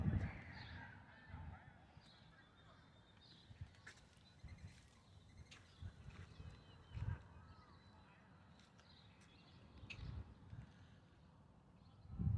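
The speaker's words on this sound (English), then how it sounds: "Maybe I should leave the birds alone." Geese honk repeatedly at a distance, faint and scattered across the stretch, under outdoor ambience with some talking.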